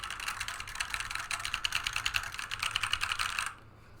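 Typing on a K-type mechanical keyboard with PBT keycaps, a quick run of close, crisp key clacks in uneven rhythm that stops abruptly just before the end.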